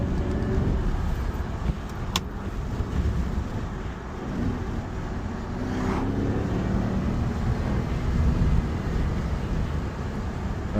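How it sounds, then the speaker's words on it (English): A Jaguar XKR X150 supercharged V8 idles steadily close by, a low throaty growl with a faint supercharger whine above it, continuous and fairly even throughout. "The growl of the V8 and the whining of the supercharger."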